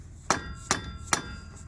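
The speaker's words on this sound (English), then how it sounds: "Take a hammer and just kind of loosen up that CV axle inside this hub assembly." Three sharp metallic hammer strikes on a CV axle inside the wheel hub of a 2005 Chevy 2500HD, evenly spaced about 0.4 seconds apart, close and ringing briefly.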